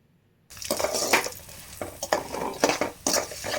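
Ground lentils, curry leaves and mustard seeds are stirred and frying in hot oil in a pan, a steady sizzle broken by scraping spoon strokes at an uneven rhythm.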